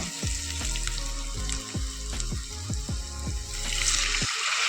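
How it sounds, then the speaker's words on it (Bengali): Water is poured into a pan of spiced potatoes that are frying for a taro-dumpling curry. It makes a loud, continuous sizzle and bubbling with repeated splashy bursts, and no one speaks. "এবার আমি এর মধ্যে জল দিয়ে দেবো"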